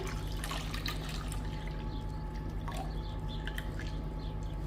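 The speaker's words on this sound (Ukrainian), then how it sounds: "І тепер виливаю остальне." The rest of a chocolate-coconut cake batter mixture is poured into a bowl, giving a steady, continuous liquid rush that stays fairly loud and even throughout, with no speech.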